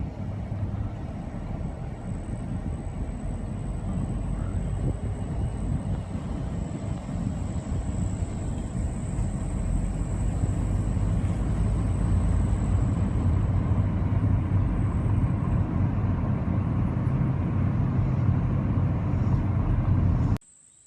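Steady road rumble and engine drone come from inside a car driving along rural roads while crops are scouted, continuous and loud for about twenty seconds before cutting off abruptly.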